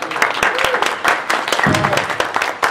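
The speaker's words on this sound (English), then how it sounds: "Right, applause." Applause rises from the audience at a San Diego Comic Con convention panel, uneven clapping with distinct close claps punctuating it and some voices mixed in, fairly loud over its short span.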